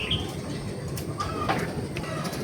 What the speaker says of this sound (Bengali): কোত্থেকে উড়ে উড়ে আসে কবুতর।